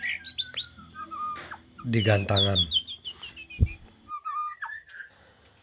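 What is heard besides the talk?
white-rumped shama (murai batu) chirping in front of its cage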